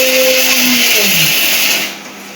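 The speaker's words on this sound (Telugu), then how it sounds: "ఇప్పుడు మిక్సీ పట్టేస్తున్నా" A mixer grinder runs loud and steady as it grinds peanuts and cardamom for laddu, with a whine that drops in pitch before the motor winds down near the end.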